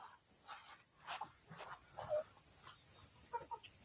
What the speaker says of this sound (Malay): Hangpa tengok bapa ayam ni.